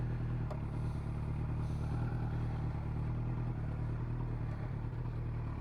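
A 2002 Yamaha YZF R1 sportbike idles close by, a steady low engine rumble with a constant mechanical clatter and no revving. No one is speaking.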